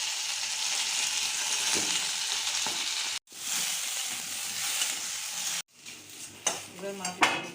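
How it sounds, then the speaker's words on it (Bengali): Rohu fish pieces fry in hot oil in a pan for a fish curry with yam, a loud continuous sizzle broken by two sudden cuts, then spatula scrapes and clanks against the pan near the end. "তেলের উপরে আমি মাছগুলো ভেজে নিচ্ছি।"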